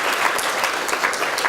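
Conference audience applauding, dense and loud clapping sustained evenly throughout with no speech over it.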